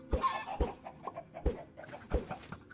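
Video game farm chickens give short, punchy clucks in an uneven rhythm, four or five sharp calls close by with softer chatter between them.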